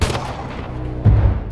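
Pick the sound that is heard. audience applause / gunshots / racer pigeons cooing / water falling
gunshots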